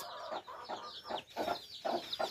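Young laying hens and a free-range hen in a backyard pen cluck in short, rhythmic bursts, close by and moderately loud.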